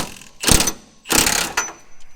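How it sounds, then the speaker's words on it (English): Air ratchet spinning a wobble socket on a 2022 Platinum truck's steering during a BDS coil-over and radius arm lift install, two loud close whirring bursts separated by a short pause. "you know we had to go get the trusty wobble socket."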